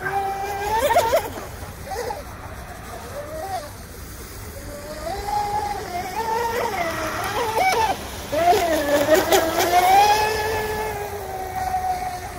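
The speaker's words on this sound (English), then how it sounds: "Only day I could get out here and run the boat." A small motor on a UL-19 or Deltaforce 23 RC model boat whines and revs, rising and falling in pitch across several passes, with water splashing and a voice talking over it.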